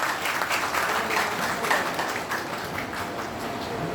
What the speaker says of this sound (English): Can we have a huge round of applause for Rathore ji as well?